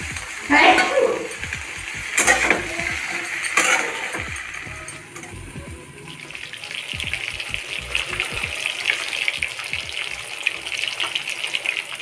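Okra (bhindi) frying and being stirred in a pan for a home Sunday lunch, a steady close sizzle with a few louder clatters of stirring early on, continuing evenly throughout.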